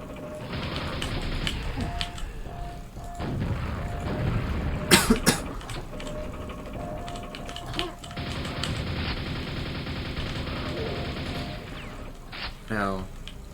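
Rocket-jump explosions in a first-person puzzle shooter, a few punchy blasts and crashes over a steady background drone, with a short cluster of sharp hits midway.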